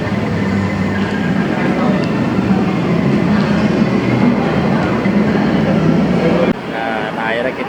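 LRT Jakarta light rail train pulling into Velodrome station, a steady loud rumble of wheels and car noise throughout, dropping abruptly near the end as the train settles, with voices under the din.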